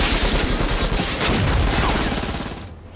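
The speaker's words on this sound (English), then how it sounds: "Then came the explosion." A dense, rumbling explosion roars with crackling debris throughout, loud and sustained before fading out toward the end.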